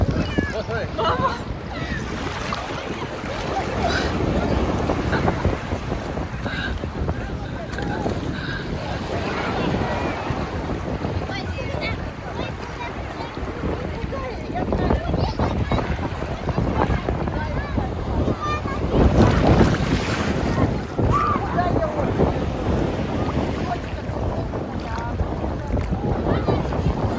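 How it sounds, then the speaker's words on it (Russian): Sea waves roll and break steadily on a beach at Yevpatoria under gusting wind buffeting the microphone, with voices talking nearby throughout. "Сейчас как мне волны накроет."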